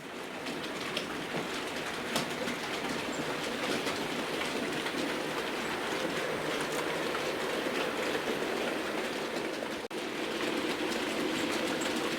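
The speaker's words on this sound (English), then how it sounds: "And here comes the Flying Scotsman. Pulling through" A model Flying Scotsman locomotive runs along a layout track, giving a steady, continuous rolling rumble with a faint rhythmic clatter that holds level throughout, briefly dipping near the end.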